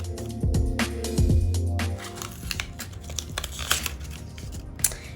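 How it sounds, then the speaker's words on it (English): Dried acrylic paint pour skin is peeled and unwrapped from a tile, giving continuous crinkling, crackling and tearing rustles close by, with a few sharper snaps. "I just want to continue with unwrapping this"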